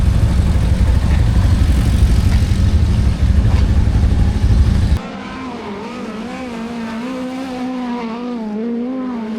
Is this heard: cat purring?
no